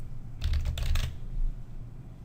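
A short burst of quick keystrokes on a computer keyboard as a check number is typed, a brief cluster of close clicks followed by quiet room tone.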